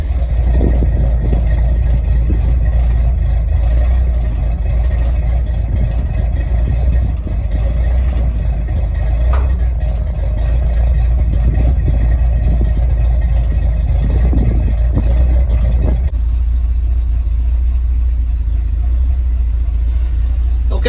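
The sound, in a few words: 1970 Ford F100 truck engine idling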